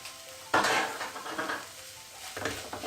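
Paneer tikka masala gravy with garam masala and asafoetida is stirred in a hot pan, bringing bursts of scraping and sizzle with a spoon against metal, close by and without talk.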